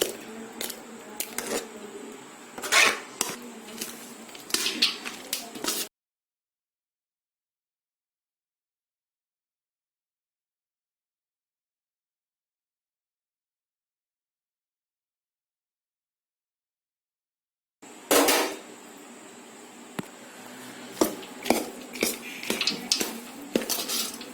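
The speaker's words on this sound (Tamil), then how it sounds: "இப்போ நம்ம இந்த செஞ்சு வச்சிருக்கிற புளிக்காய்ச்சலையும் சேர்த்துக்கலாம். சேர்த்து நல்லா கலந்துக்கணும்." Tamarind paste being mixed into rice with a utensil for puliyodarai prasadam, faint scraping and clinking against a metal vessel in bursts, separated by a long silent gap.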